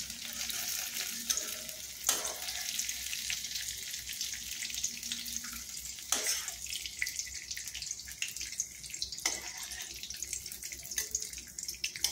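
Soft onion pieces fry in hot oil with a steady, faint sizzle and bubbling hiss, broken by a few brief clatters of stirring, with no talking.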